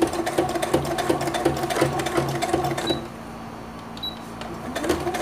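Sewing machine stitching a synthetic leather bunny-shaped bag, running in a steady fast rhythmic whir for about three seconds, then stopping to a quieter room with faint clicks and brief stitching bursts near the end.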